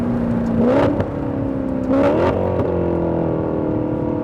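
A 2009 Maserati Quattroporte Sport GTS with a Ferrari-built engine, heard close from inside as two quick rev blips during downshifts while slowing, then settling into a steady engine hum.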